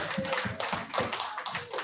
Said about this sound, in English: just a big hand clap for our project leads